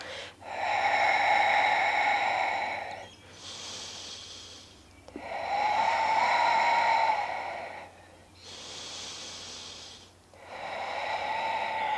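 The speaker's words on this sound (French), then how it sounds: "Ouvre les narines et inspire, encore 3 comme ça" Active breathing in prenatal yoga practice, with slow, deliberate inhalations through open nostrils: loud, close, airy breaths repeating in long swells about every three seconds, with softer exhales between and no speech.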